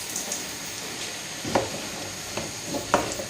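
Diced, washed potato is stirred in oil in a saucepan with vegetables, giving a soft, steady sizzle broken by a few scraping strokes of the spoon at regular intervals.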